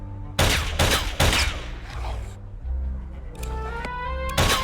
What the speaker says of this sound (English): He wouldn't be able to hear me over the gunfire.